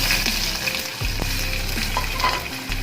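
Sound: beans and carrots frying in a pan

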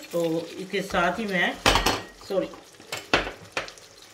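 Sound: frying whole spices and potatoes for chicken biryani

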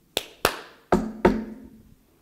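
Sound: hands clapping and knocking three times

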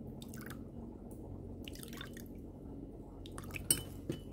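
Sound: three tablespoons of water poured in

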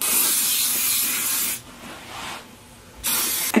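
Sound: hairspray being sprayed

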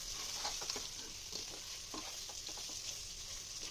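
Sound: hilsa fish gravy frying and being stirred

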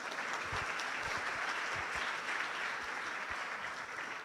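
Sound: applause for the artist

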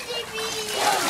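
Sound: water splashing in backyard pool

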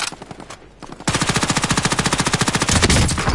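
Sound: gunfire in a first-person shooter video game

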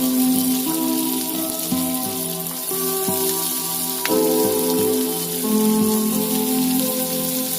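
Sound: chopped onions frying in hot oil

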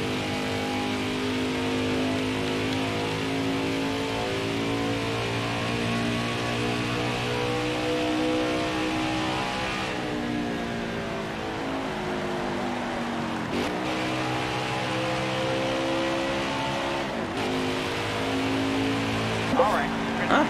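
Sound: race car engine revving in NASCAR Heat 5 video game

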